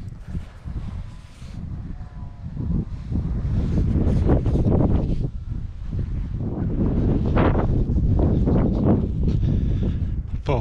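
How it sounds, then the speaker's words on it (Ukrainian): Strong wind gusting across an open field in cold weather with occasional snow, roaring steadily and rising in loudness after the first few seconds, with a voice talking faintly underneath. "А так дує з усіх сторін."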